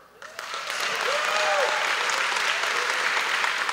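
A room of attendees at a chamber of commerce installation breakfast breaks into sustained applause, rising quickly from a quiet start into a full, even roar of clapping that holds steady to the end.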